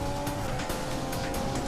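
A Mercedes Formula 1 car racing in the F1 2015 game at the Brazil circuit, its high-pitched engine whining steadily and loud, with tire squeal over the top.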